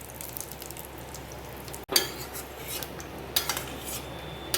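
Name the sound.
soaked basmati rice being roasted and stirred in a pan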